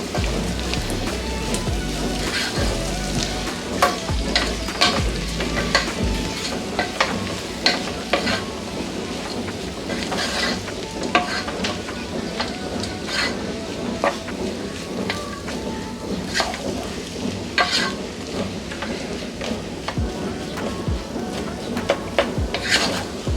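Spiced onion rice being stirred and mixed in a pan, a steady scraping and sizzling texture that runs continuously throughout at moderate loudness, with no talking.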